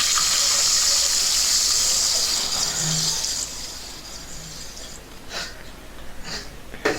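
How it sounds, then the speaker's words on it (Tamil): Water pours steadily into a pot for ghee rice, a loud, close gushing that runs for several seconds and then thins out into softer splashes and stirring. "இப்போ தேவையான அளவுக்கு தண்ணி ஊற்றி மீண்டும் நல்லா கலந்து விட்டுருங்க"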